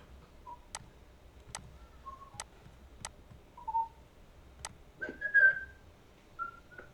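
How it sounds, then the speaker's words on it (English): Someone whistles over an open microphone during an online chess lesson, giving short, faint melodic whistled notes against a quiet background, punctuated by several sharp, regularly spaced ticking clicks. "Whoever is whistling, mute your mic."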